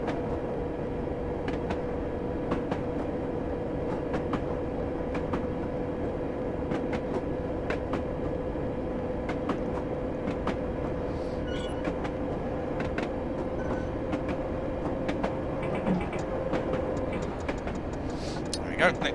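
A London Underground D78 stock train runs in the Train Sim video game, with a steady rolling rumble, a sustained motor whine and regular clicking rail joints, with a voice talking over it.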